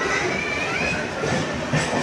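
A Panskura local train rolls past at Mecheda station in a steady, close rush of wheel and carriage noise.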